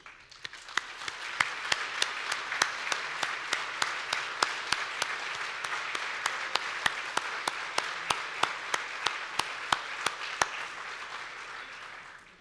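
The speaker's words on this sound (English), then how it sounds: "Please join me in a round of applause for these great community leaders and economy builders" Steady audience applause for Legacy Award recipients at a chamber member celebration, a continuous wash of clapping with a regular, rhythmic beat of sharper claps running through it for about twelve seconds.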